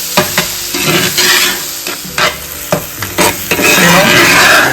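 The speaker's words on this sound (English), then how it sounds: "Add tomatoes. Same process again. Stir continuously." Tomatoes and onions cook in a pan over a slow heat and are stirred continuously, so loud, close scraping strokes sit over a strong steady sizzle with no speech.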